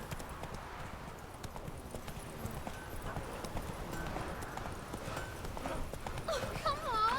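Horse hooves clip-clop at a steady galloping rhythm in The Witcher 3: Wild Hunt, continuous and fairly close throughout, with a brief whinny-like tone near the end.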